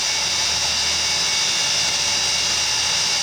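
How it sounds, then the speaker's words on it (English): Cooling fans in a Gatesair PA transmitter power supply whir in a steady, loud broadband hiss with a faint low hum as they slowly spin down. "It takes a little while for those fans to actually come to a complete stop."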